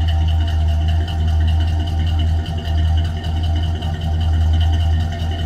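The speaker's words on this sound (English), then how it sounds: "Good sounding car, nice little rumble coming out of that V8." 1970 Cadillac Coupe DeVille V8 idles with a steady, loud low rumble and slight mechanical clatter, close by and uninterrupted by talk.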